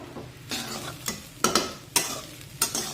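Seasoned rice with mixed vegetables is stirred in a frying pan, a spoon scraping the metal in several rhythmic strokes over a low sizzle, heard close with no talk.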